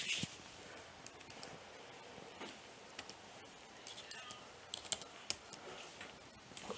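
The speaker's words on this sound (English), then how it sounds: "so typed reboot into our terminal" Soft keystrokes on a computer keyboard as reboot is entered into a terminal: a quiet, irregular run of light clicks over faint room hum, with a slight voice murmur in the background.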